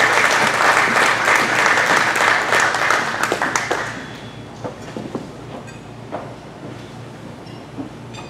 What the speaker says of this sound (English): nice round of applause for Gabrielle McDonald.